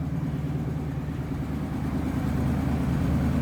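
A 1966 Ford Mustang convertible's 289 V8 idles steadily through its stock exhaust, a smooth, even low rumble heard close from behind the car with no other sounds.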